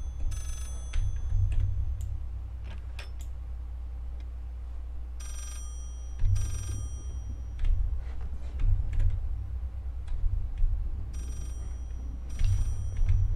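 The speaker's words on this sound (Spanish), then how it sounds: "Suena como un teléfono, ¿no?" A telephone rings in bursts inside the psychological horror video game Layers of Fear. The ringing repeats several times with pauses, over a constant low, rumbling ambient drone.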